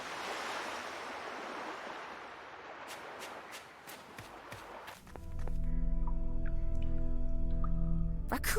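Ocean surf rolls and hisses in the video game Beyond The Edge Of Owlsgard, a broad wash of waves with a few light taps, before steady tonal music takes over midway.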